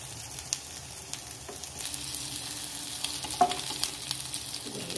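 Ragda patties frying in a little oil in a steel pan, with soft sizzling and scattered scraping taps as a spatula flips them, quiet and close with no talking.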